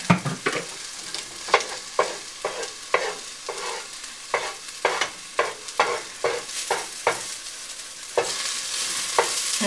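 Egg whites and bell peppers fry in a pan under a soft sizzle, broken by a rhythmic run of sharp scraping stirs, roughly one every half second, close and fairly quiet, with no talking.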